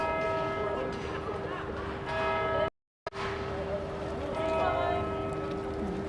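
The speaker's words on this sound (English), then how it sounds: "People are saying that the bells are driving them mad." Church bells ring out in London during an evening service, a steady sustained peal with ringing overtones, broken by a short gap of silence, with crowd noise and talk underneath.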